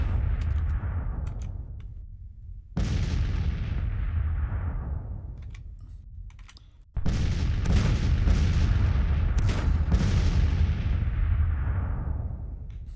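Artillery guns firing in the Civil War strategy game Grand Tactician: Civil War, with two loud booming volleys that each roll out into a long fading rumble, heard alone with no talk.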